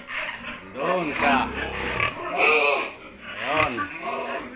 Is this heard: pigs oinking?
yes